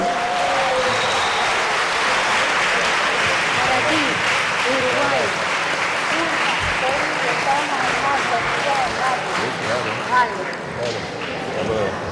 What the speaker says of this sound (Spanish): hay que aplaudirlo